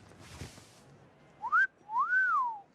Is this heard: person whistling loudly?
yes